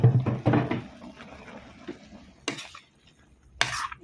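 Mustard greens stirred in a pot of boiling oil while cooking a pork bone curry, a few scraping utensil strokes against metal, with two sharp clanks standing out over a low background.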